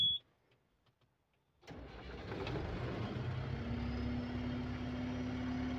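A New Holland 2550 swather engine cranks and catches after a near-silent pause, then settles into a steady, loud idle with a low droning hum that holds to the end.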